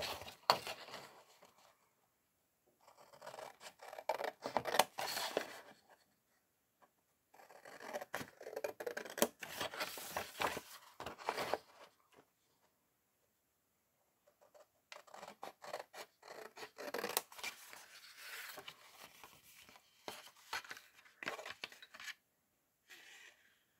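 Scissors snipping through paper while cutting around the shape for a handmade 18.5 cm flower bouquet, in several bursts of close, crisp cutting separated by short pauses.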